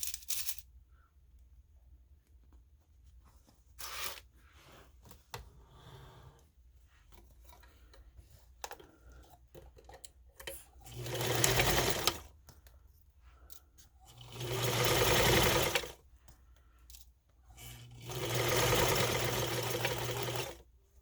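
A sewing machine stitches a seam on a fabric book bag in three loud, sustained bursts of rapid whirring, separated by quieter handling noises and short clicks.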